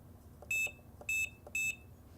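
A George Knight heat press control panel gives three short, evenly spaced electronic beeps, loud and near, over a low background hum.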